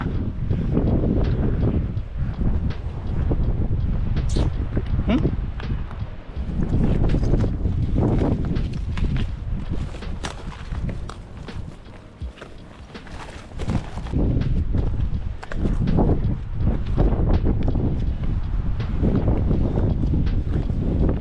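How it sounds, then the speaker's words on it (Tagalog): Strong wind buffets the microphone on a hilltop summit during a walk, a loud, continuous rumbling roar that rises and falls in gusts for the whole stretch, with no voices. "Hindi ganun kainit, mahangin."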